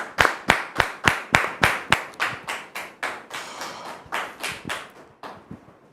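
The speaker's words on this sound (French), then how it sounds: "Merci de le recevoir sous vos applaudissements" A TV talk-show studio audience claps in a loud, strongly rhythmic unison beat, about a dozen sharp claps that loosen and fade toward the end, with no talking.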